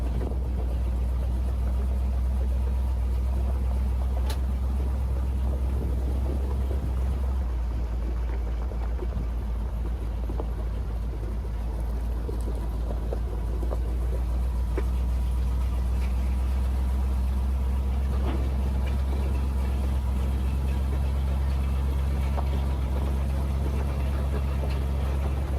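A truck engine running steadily with a new carburetor, new fuel regulator and electric fuel pump, a constant low idling rumble that holds even and loud throughout with no speech.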